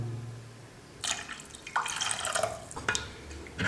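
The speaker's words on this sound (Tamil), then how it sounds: "இப்போ நம்ம குழம்புக்கு தேவையான அளவுக்கு தண்ணி ஊற்றிக்கலாம்." Water splashes and pours in short bursts into a pot of bonda curry, with gaps between pours and no talking.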